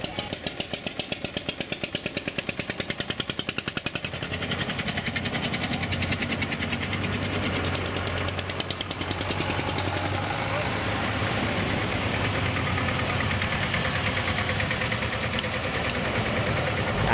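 Vintage tractors on a group oldtimer ride in the Achterhoek, their old engines chugging loudly and steadily up close with a rapid rhythmic beat that carries on throughout.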